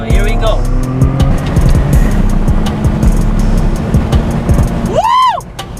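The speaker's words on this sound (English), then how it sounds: "My first time driving a turbo vehicle with blow-off valve." A turbocharged car with a blow-off valve accelerates hard, its engine a loud, continuous drone from inside the cabin, then a rising whoosh and release as the throttle lifts near the end.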